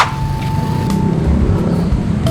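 Steady low engine rumble and road noise from inside a moving tricycle, a motorcycle with a sidecar, loud and continuous with a faint whine on top.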